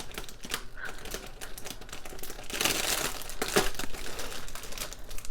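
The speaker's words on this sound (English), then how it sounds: "it came to me wrapped in this cellophane type wrapper." A cellophane wrapper crinkles and crackles during an unboxing, close and continuous for several seconds and growing busier toward the end, with no talking.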